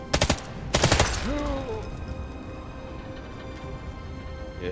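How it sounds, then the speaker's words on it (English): A machine gun in Sniper Elite Resistance fires two short, loud, rapid bursts close together at the start, followed by fading echoes and a low ambient game hum. "Always want to pulse with any machine gun."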